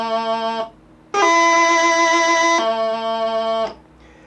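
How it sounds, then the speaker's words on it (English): A Highland bagpipe plays a cadential E movement, with a high G grace note on E resolving to low A in the lament "Glengarry's Lament": a steady, loud reedy drone-backed tone shifting between sustained notes, played alone. "It is simply a high G grace note on E"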